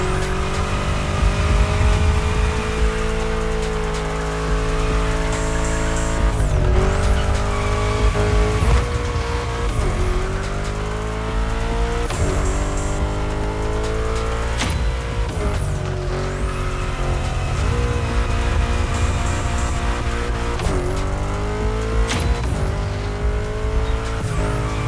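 Engine roar of a car in The Crew Motorfest racing game, loud and continuous with rising and falling revs through gear shifts, and tire squeal as it swings through bends, no voices.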